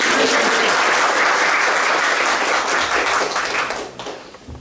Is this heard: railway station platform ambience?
no